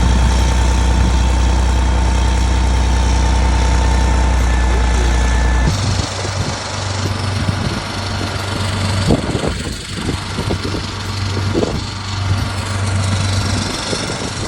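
A crane's steady, heavy engine idles with a low rumble, then shifts to a rougher, uneven running note with some knocks and clanks nearby, while lowering the mast of a 1989 Com-Pac 27 sailboat.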